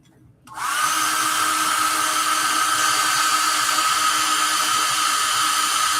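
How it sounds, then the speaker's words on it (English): A hair dryer blowing on freshly painted figures switches on after a brief quiet moment, then holds a loud, steady, close whooshing roar with a constant whine through the rest. "blow dry this."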